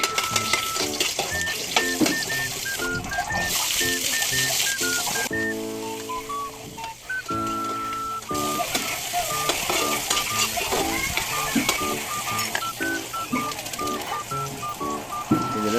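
Garlic and onion sautéing in a pan for pancit, sizzling and crackling steadily while a utensil scrapes and stirs, with background music playing over it.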